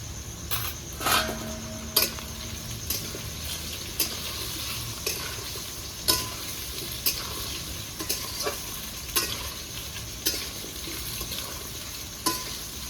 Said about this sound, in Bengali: কচু ভাজা হয়ে গেছে।